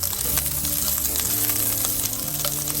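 A chorizo fries in a hot pan, producing a loud, dense, unbroken sizzle with crackling pops, heard up close for a few seconds.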